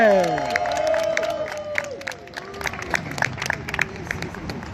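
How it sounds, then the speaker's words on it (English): A crowd at an outdoor cannabis rally applauds and cheers, with scattered claps and shouts over a voice on a loudspeaker, the clapping growing denser toward the end. "Give another round of applause to Joanna here"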